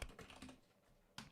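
Brief bursts of computer keyboard typing while a to-do app is being tested, a cluster of quick key clicks at the start and another sharp clatter near the end, close and fairly quiet with no talking.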